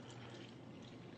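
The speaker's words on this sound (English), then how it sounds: "Watch what happens when I go to pour again." Water is poured onto a tea bag in a steady, soft, low-level stream with no voices over it.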